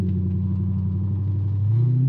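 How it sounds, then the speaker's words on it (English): Deep, steady engine idle of an Audi R8 warming up nearby, low and throaty, with a slight rise in revs near the end. "Now, we are going to let the car warm up a little bit"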